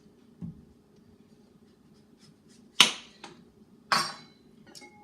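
A knife chops the ends off parsnips, a turnip and a rutabaga, giving three or four sharp, separate cuts against a board with quiet pauses between them.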